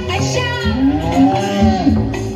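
A voice imitating a cow's moo during a school performance, drawn-out and wavering in pitch, loud and close, repeated in a sing-song way.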